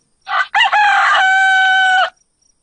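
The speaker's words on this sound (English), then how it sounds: "Rooster." A single rooster crows loudly and close by, a short opening note followed by a long, sustained cock-a-doodle-doo that cuts off cleanly.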